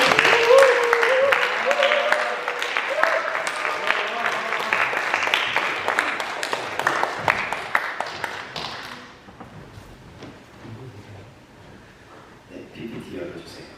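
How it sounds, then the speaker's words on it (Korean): A church congregation applauds as a mission team returning from India comes forward, with dense clapping for several seconds under voices, then tapering into quieter room sound and speech. "박수!"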